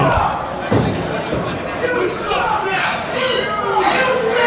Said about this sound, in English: The crowd trying to get behind Somerset.